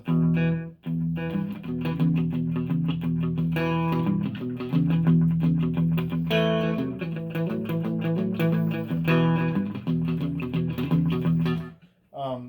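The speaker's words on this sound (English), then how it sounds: "or those old school rockabilly slapback type tones." Electric guitar riffing steadily through a mini delay pedal with a short, quick rockabilly-style slapback echo on each note, playing continuously for several seconds before cutting off.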